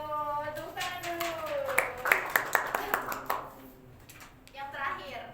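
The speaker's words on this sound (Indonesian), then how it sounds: "tepuk tangan dulu" Short burst of hand clapping from a small audience in a classroom during a micro teaching lesson, a quick run of sharp claps that swells and dies away, with voices and talk before and after.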